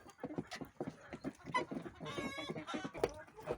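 Hens in a barn, some of them sick and wheezing, cluck in a busy, irregular series of short calls close by, with one longer drawn-out vocalization in the middle.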